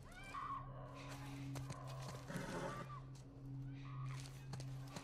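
A horse in The Last of Us video game snorts and whinnies with soft hoof clip-clops, set over a low steady background hum, heard fairly close at modest volume.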